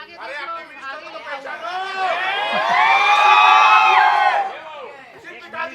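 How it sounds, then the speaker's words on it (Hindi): Several people shout and chatter at once during a staged mock-parliament play at a botany festival, the voices swelling into a loud, overlapping uproar midway before easing back to scattered talk. "आप चिल्लाना थोड़ा बंद कीजिए"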